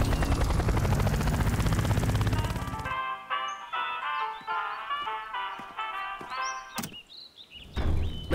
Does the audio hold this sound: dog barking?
no